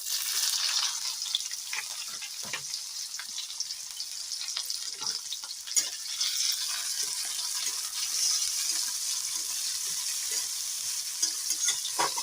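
Chopped onions hiss and sizzle steadily in hot oil with cumin seeds and chilli while an elephant foot yam curry is being cooked, with occasional stirring scrapes under a constant bright fry.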